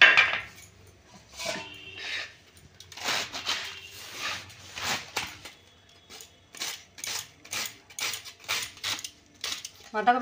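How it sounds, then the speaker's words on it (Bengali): A knife slices a whole washed cabbage into long strips for pakoras, giving a series of crisp, close crunching cuts in an uneven rhythm on a board, with someone speaking between strokes. "এবার আমি কেটে নেবো, মুঠি দিয়ে কেটে নেব বাঁধাকপিটা।"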